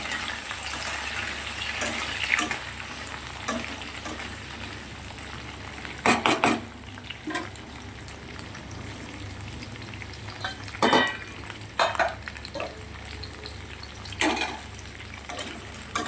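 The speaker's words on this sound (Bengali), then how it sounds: "সবার প্রথমে আমি পেঁয়াজ আর ক্যাপসিকামটা ভেজে নেব" Steady sizzling of onion and capsicum frying in a pan, with occasional scrapes and stirring clatter breaking through at intervals; no voices.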